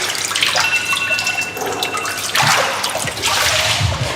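Cold water running steadily from a tap, a loud continuous splashing rush with no speech.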